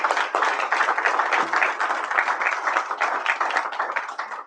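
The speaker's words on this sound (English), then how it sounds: "Let's give him a round of applause." An audience at a recovery convention claps for the next speaker, steady dense applause close by that runs the whole time and fades slightly at the end.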